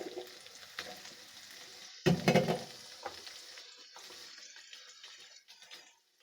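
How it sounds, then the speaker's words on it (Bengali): Potatoes frying with salt and turmeric in a pan for a spicy beef curry sizzle softly, with a brief louder burst of stirring and scraping midway before the sound fades, close and without speech. "আলুটাকে একটু লবণ হলুদ দিয়ে একটু ভেজে নেব।"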